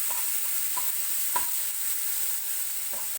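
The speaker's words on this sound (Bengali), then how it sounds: "মশলাটাকে এবার ভালো করে কষিয়ে নেব" Masala of turmeric and spices with a splash of water sizzles steadily in a pan for a potato and pointed gourd curry, with a spatula scraping through it in a few soft periodic strokes; close and continuous, no voices.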